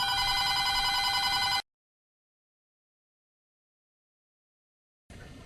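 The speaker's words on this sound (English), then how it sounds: "I had to answer the phone" A telephone rings loudly and close for about a second and a half, then cuts to silence, and a second ring starts near the end.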